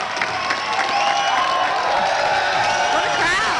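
A large audience at a Ron Paul speech at the College of Charleston cheers, whoops and applauds in a loud, sustained roar, with voices shouting over the clapping.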